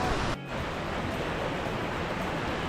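Sea waves wash onto a beach in Goa as a steady, loud broadband roar of surf, with a brief dip in level near the start and no voices.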